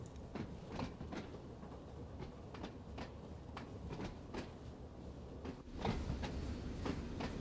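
In Train Sim World 2 on the Isle of Wight route, a train rolls along with a steady low rumble, rhythmic wheel clicks over rail joints and occasional knocks, swelling slightly louder toward the end.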